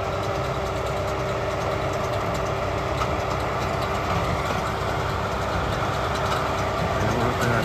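A Kubota tractor engine drones steadily while baling in an irrigated summer pasture, a constant near, low mechanical hum with no break and no voices.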